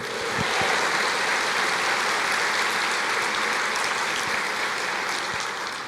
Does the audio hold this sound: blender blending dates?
no